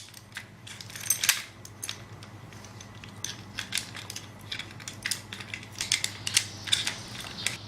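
Working uPVC door lock mechanism, just freed from jamming, gives out a run of close, dry metallic clicks, ratchet-like clacks and scraping as it is operated.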